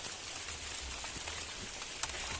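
Rain patters steadily on a surface outdoors, a soft continuous hiss of drops with a few slightly sharper splashes, heard alone at moderate volume.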